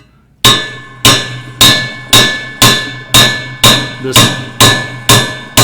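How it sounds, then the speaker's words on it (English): A persuader hammer striking metal clamped in a Press Buddy die press for bending, ten loud ringing blows at an even pace of roughly one every half second, each clang decaying with metallic resonance; a brief word is spoken. "now I'm going to take my persuader and I'm going to bend"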